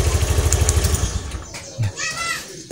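A 2014 Honda Beat motorcycle engine running after a remote start, a close, pulsing idle that fades out partway, followed by faint background voices and noise.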